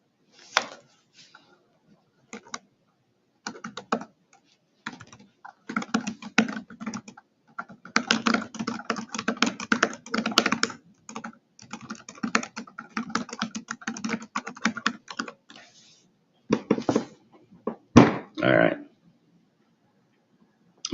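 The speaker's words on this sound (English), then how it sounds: "Let's see if I can type this in here." Typing on a computer keyboard: close, clattering bursts of rapid keystrokes with short pauses between them, loud and alone without speech.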